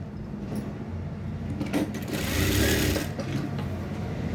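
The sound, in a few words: sewing machine stitching around fabric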